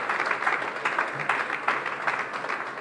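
Audience applause at an African business conference as a speaker is welcomed to the stage, a steady, moderately loud crowd clapping with uneven swells lasting throughout.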